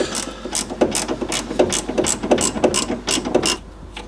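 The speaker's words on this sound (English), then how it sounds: "get a ratchet in here" A hand ratchet loosens a suspension bolt on an MGB, giving a fast, even train of sharp metallic clicks, close and steady throughout, with no talking.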